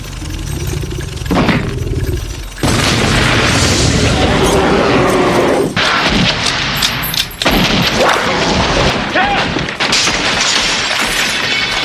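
Film-soundtrack gunfire as hundreds of bullets hit a giant worm, a dense, loud barrage of booms, rapid shots and crashing impacts that keeps going with brief breaks, layered with chaotic action noise.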